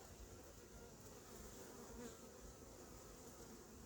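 Honeybees at the narrowed entrance of a hive in an apiary make a dense, steady, close buzz of many insects that continues unbroken and fairly faint throughout.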